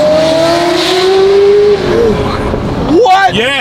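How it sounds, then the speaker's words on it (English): A Ferrari F40 engine with a custom titanium exhaust revs hard, rising in pitch then dropping, with crackling exhaust pops near the end and people talking over it. "You don't hear F40s typically sound or pop or bang that much."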